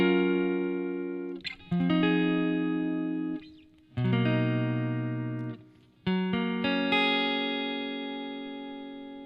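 Sustained electric guitar chords ring out one after another, each strummed and left to decay, with short gaps between changes; clean, slightly effected tone, no voices.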